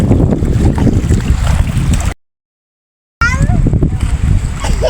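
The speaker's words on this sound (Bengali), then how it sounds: "প্রচণ্ড ঢেউ হইতেছে আসলে খালি মেঘ করে কিন্তু বৃষ্টি হয় না" Strong river waves splash and slap against a small boat under cloudy, windy skies, with constant gusty wind noise buffeting the microphone and a brief silent gap midway.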